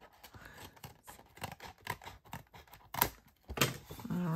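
Scissors trim excess paper from a paper bag in a series of quick, close snips and crisp paper crinkles, faint and without talk.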